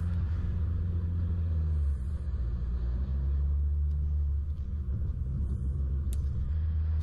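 A Mitsubishi Pajero climbs a sand dune at Stockton Beach, its engine a steady low rumble with wind noise, loud and continuous throughout.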